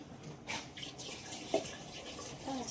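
Water pours into spiced vegetables for veg biryani in a pot, a soft, brief splashing flow, quiet and close.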